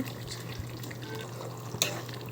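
Vegetable sagu with ground masala is stirred in a pan on the stove, giving a soft, quiet scraping and gentle bubbling with one sharper clink of the utensil near the end, no voices.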